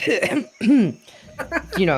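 A woman clears her throat in a short burst amid tabletop role-play storytelling, with a voice talking around it, close and fairly loud.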